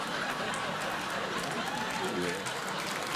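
Steady applause from a late-night talk show studio audience, a continuous wash of clapping that holds at an even level throughout, with voices mixed in.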